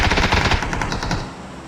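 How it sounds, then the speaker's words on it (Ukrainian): Automatic gunfire rattles in the battle royale game PUBG, a loud rapid burst of shots close up that thins out toward the end, with no talking over it. "Справа від мене хтось стріляв."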